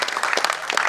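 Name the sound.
audience applause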